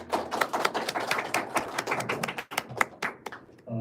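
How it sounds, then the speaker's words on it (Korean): An audience at a university business-school workshop in Korea applauds to welcome a dean, with dense overlapping hand claps that continue steadily and thin out toward the end. "박수로 맞이해주시기"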